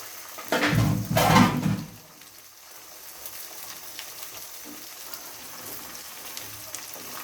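Three whole dried red chillies hit hot oil for a mango and garlic pickle, giving a loud sizzling burst for over a second that fades into a faint, steady hiss.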